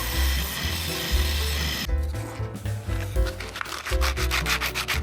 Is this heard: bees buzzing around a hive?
no